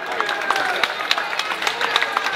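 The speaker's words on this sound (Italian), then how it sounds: "Facciamo un altro applauso a Jacopo, se lo merita." Applause for Jacopo at an Italian tribute event, a crowd clapping steadily with quick crisp hand claps, fairly close and continuous, with voices mixed in.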